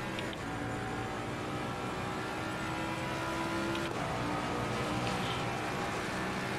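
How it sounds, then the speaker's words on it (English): A race car engine in the racing game Assetto Corsa Competizione roars at a steady high pitch, shifting gears once midway, continuous and loud with no talking. "Car sounds great"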